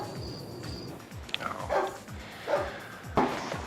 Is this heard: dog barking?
yes